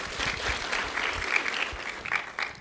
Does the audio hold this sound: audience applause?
yes